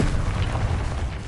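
Bombarda blasting spell explosion in Hogwarts Legacy, a short heavy booming burst with a deep low rumble lasting about a second, loud and close.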